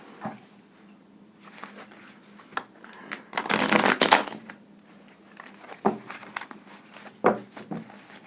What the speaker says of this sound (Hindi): एक बार इनकी रिशफलिंग कर लूं।